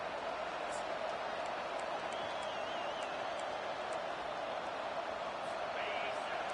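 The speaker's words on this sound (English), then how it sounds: "Listen to this crowd just shaking the girders of this place trying to help their defense." A large crowd roars steadily from a distance at a USF at UF college football game in the video game College Football 25, a broad sustained wash of noise with a few whistles and shouts rising above it.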